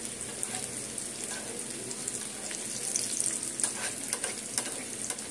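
Flattened rice (chira) pakoras fry in hot oil, giving a steady, dense sizzle with crackling pops that runs the whole time, close and even in level, with no talking.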